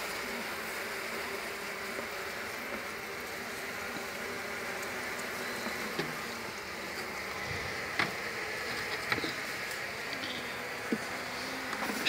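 Steady buzzing of many honeybees around a hive during hive maintenance, a close continuous drone with occasional faint clicks and knocks.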